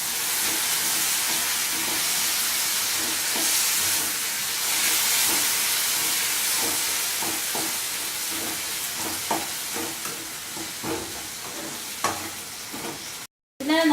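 Tomatoes sauté in hot oil in a pan, a loud continuous sizzle and hiss with irregular stirring clicks toward the end, close and without talk.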